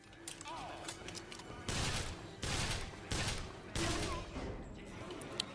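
Bursts of automatic machine-gun fire in the video game BioShock Infinite, Burial at the Sea, coming in several loud rapid volleys separated by brief pauses, with faint voices murmuring in the background.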